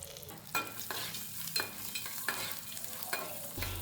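Green chillies and curry leaves sizzle in hot oil for pulihora while a spoon stirs them, making repeated scraping strokes over a steady close crackle.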